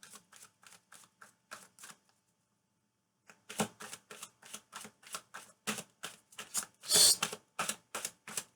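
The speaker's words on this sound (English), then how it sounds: "It's almost like I had to force the shuffle to stop." Tarot cards being shuffled for a Libra love reading, with quick crisp riffling bursts in a steady rhythm. A brief set comes first, then a pause, then a longer, louder run that peaks near the end, all close by with no voices.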